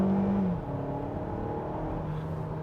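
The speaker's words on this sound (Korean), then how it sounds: "급가속을 해도 전혀 뭐 힘이 딸리거나 아니면은 뭐 버겁다거나 사실 그런 느낌을 받지는 못합니다" Kia Seltos turbo engine car accelerating hard, a steady loud engine drone heard from inside the cabin with a brief high whine at the start, no talking.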